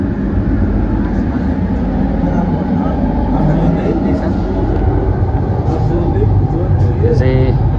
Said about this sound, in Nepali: केएलको आकाशे ट्रेन यति रफ्तारमा हिँड्छ यो